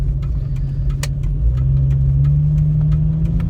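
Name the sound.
Jeep Cherokee XJ engine while driving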